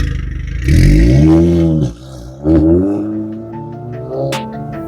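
A 2016 Audi A3 Premium S-line with a 2.0 TFSI engine and Quattro drive pulls away, its engine revving up loudly with rising pitch, easing briefly, then climbing again before settling.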